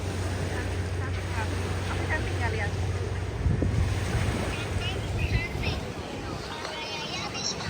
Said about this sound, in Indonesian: Suka banget sama suara ombak